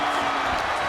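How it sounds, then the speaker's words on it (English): A wrestling-arena crowd in the WWE 2K25 video game, at an AAA Lucha Libre match, roars in a loud, dense, unbroken wash of cheering for a brief moment. "This crowd is thunderous right now."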